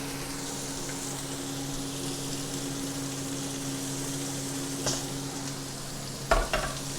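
Carrot and ginger frying in a pan for a beef stew, a quiet steady sizzle under a low hum, with a couple of soft scraping clatters of stirring near the end.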